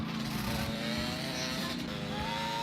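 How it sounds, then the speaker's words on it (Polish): Motorbike engine in the video game GTA Vice City, a steady droning hum with shifting pitch that continues without a break. "Pojedziemy sobie motorem."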